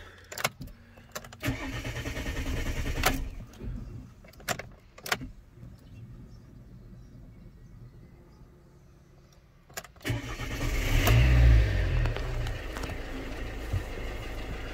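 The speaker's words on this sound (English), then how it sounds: "So we start the engine" A Fiat 500L's engine cranks and starts after a few clicks and key jangles, then settles into a steady, close idle hum that continues to the end.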